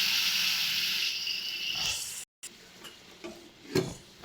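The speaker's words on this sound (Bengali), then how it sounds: "তো চলো এবারে দিয়ে দিচ্ছি জলটা।" Water poured into sugar in a pan for pineapple chutney syrup, a steady hissy pour that fades, followed by a few faint stirring and clinking sounds.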